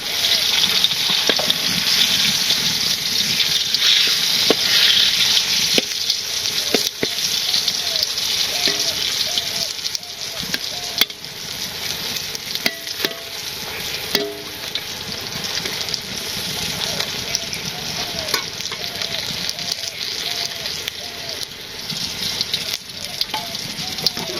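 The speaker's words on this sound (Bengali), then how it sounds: "পটল ভাজিয়ে প্রায় হয়ে আসছে" Sliced pointed gourd (potol) fries in a pan in a village kitchen, with a loud, continuous oily sizzle and scattered scraping stirs that carry on throughout.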